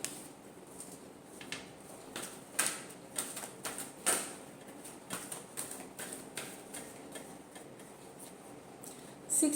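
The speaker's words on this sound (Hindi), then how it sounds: "लास्ट शफल, एक शफल और करेंगे।" Tarot cards being shuffled, a run of soft irregular riffling and tapping clicks, fairly close and clear with no talking.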